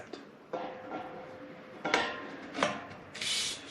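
A metal center beam of a vintage-style metal bed frame slid into its groove, giving a few short scraping rubs and light metallic knocks close by, with quiet pauses between them and no voices.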